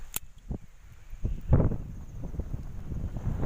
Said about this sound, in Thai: ลมแรงมากนะผม